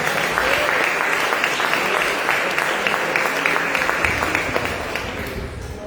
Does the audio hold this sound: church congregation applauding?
yes